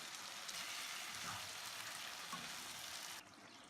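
Mutton with red chilli flakes, roasted cumin, black pepper and salt sizzles steadily in a karahi for a dhaba-style karahi, a soft continuous frying hiss with no talking.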